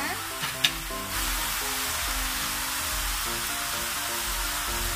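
Three kinds of mushrooms stir-frying with oyster sauce, a loud steady hiss of sizzling after an opening clatter, with a hum running beneath and no talk.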